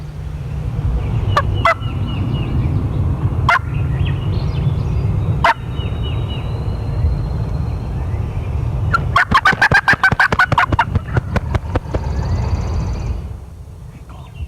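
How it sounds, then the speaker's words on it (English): Wild turkeys gobble in response to a flapper wing-beat call after a fly-down cackle: a rapid burst of flapping beats is followed by a few sharp calls, and the gobbling rolls in at moderate distance over outdoor ambience. "you'll hear the immediate response of a gobble from area gobblers right after they do the fly down cackle with the simulated wing beat"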